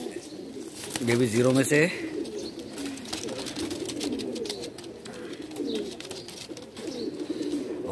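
Pigeons coo at a pigeon sale in Bhopal, one rolling coo rising loud and close early on while others murmur behind someone talking throughout.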